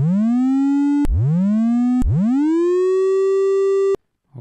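Three synthesizer notes, each opening with a swift upward pitch sweep that settles into a steady, bright harmonic tone, the last held longer and higher before cutting off, clean and loud with no voices.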